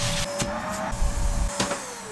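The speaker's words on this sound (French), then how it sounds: "Mais je passe juste un peu l'aspirateur." A household vacuum cleaner runs steadily nearby with a constant whining motor hum, and a few bumps and knocks as it is pushed around, with no talk.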